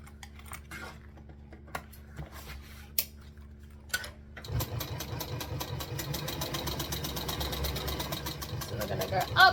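Machine embroidery on a sewing machine: a few isolated clicks and taps under a speaking voice, then a fast steady rhythmic stitching run starts and carries on loud and close to the end.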